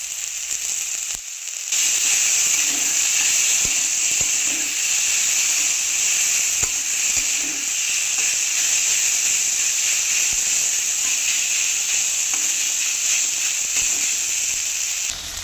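Spiced cauliflower filling for paratha, with crushed fried curry leaves and chopped coriander, fries in a pan with a loud, even sizzle and hiss that starts after a brief pause and runs on steadily, with occasional stirring taps and no speech.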